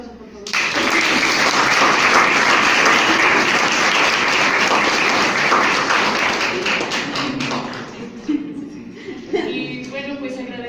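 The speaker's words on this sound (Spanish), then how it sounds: "Un aplauso, por favor." Applause from a conference audience at an engineering and basic sciences institute, a dense sustained wash of many hands clapping that swells quickly and tapers off, with a voice speaking over the tail end.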